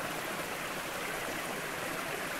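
A small, clear stream flows in the Ardennes, a close, steady broadband rush and babble of water with no pauses and no voices.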